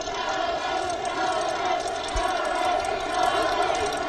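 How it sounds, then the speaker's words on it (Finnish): A crowd of ski jump spectators cheering and shouting for Janne Ahonen at Planica, a continuous roar of many voices from a large open-air audience, steady and loud throughout. "Yleisö kannustaa ja huutaa täällä Jannea"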